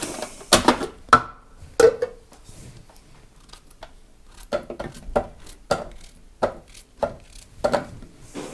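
Shallots are chopped finely in a kitchen: sharp, close chopping strikes come in irregular bursts and single hits, separated by short quiet pauses.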